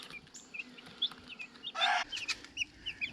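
Week-old meat chickens cluck and peep in a tub, a busy scatter of short chirps and soft clucks with one brief louder squawk, close by and alone.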